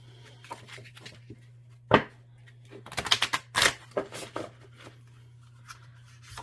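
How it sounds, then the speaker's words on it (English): Oracle cards from a classic horror deck being corner shuffled, with scattered soft taps and a quick cluster of light riffling clicks near the middle, faint and close over a low steady hum. "you can do hand over hand a little bit, or you could do this corner shuffle"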